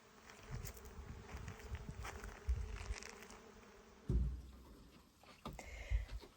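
Honey bees buzz around Ultra Bee feeders outdoors in southern Arizona, a steady close swarm hum with louder bursts as individual bees pass near, plus a brief thump partway through.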